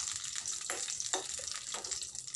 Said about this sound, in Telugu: ఇవి పచ్చిమిరపకాయ పేలింది